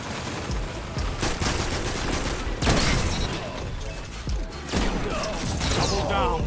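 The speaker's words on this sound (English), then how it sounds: "I shotgunned him." Shotgun blasts in the online shooter Destiny's Trials mode ring out amid dense, continuous game noise of clanking mechanisms and gunfire, with several sharp loud bursts over about six seconds.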